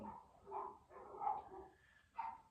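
Several dogs bark in short bursts at a middle distance, with pauses between volleys and a faint whimpering tone.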